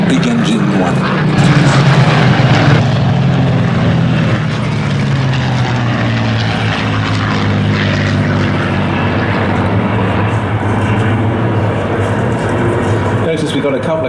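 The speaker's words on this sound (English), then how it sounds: "And now, coming from the left, the big engine one." A Spitfire flying past at an air show, its piston engine a loud, sustained propeller drone that rises and shifts in pitch as it passes, with commentary voices over it.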